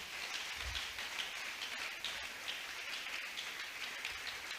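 A church congregation applauds steadily, a dense, even patter of many hands that continues without a break, fairly faint and distant.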